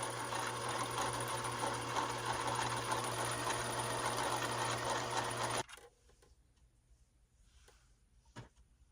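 Sewing machine stitching a spandex knit prom dress, a loud continuous buzzing whir running steadily for several seconds before stopping abruptly, followed by quiet room sound with a faint knock.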